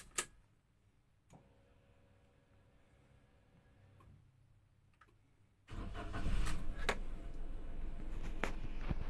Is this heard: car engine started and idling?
yes